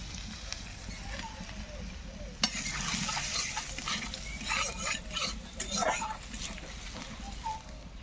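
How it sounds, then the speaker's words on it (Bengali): Helencha greens lightly frying in a pan with dried red chili and crushed garlic, giving a steady close sizzle broken by stirring scrapes and clatter throughout. "এখন শুকনো লঙ্কা আর থেতো করা রসুন দিয়ে শাকটাকে হালকা ভেজে নেব।"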